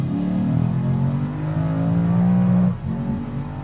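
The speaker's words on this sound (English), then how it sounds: "this engine is so much fun" A 2021 Lexus RC-F Track Edition pulls hard away from a roundabout, its engine note droning loud and steady from inside the car, then dropping off as the throttle eases.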